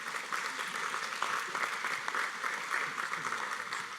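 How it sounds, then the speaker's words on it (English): Warm, continuous applause fills a room at an awards ceremony for truck drivers, an even wash of clapping from a large audience at moderate distance. "everybody should give themselves a round of applause for that"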